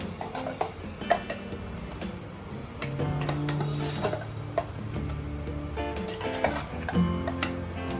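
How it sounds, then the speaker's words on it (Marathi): Ground masala paste for Maharashtrian misal is fried in oil over a low flame, a soft sizzle with a spoon scraping and ticking against the pan in irregular strokes, close by. "सगळं आपण वाटण टाकून घेऊया आणि ते सुद्धा आपण बारीक फ्लेम करून तेलावरती परतून घेऊया"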